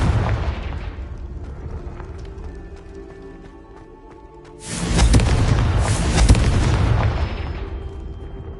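Confringo fire spell in Hogwarts Legacy, used to light a brazier: after a quieter stretch of ambience, a sudden loud fiery explosion erupts and roars for a few seconds before fading.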